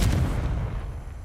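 A Confringo spell blast goes off in a Harry Potter video game: one loud, booming burst with a heavy low rumble that decays over about a second, with no talk.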